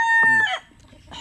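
A chicken on a rural Philippine farm gives a loud, close cluck-crow call with a harmonic, rising tone, then a short pause before another call begins.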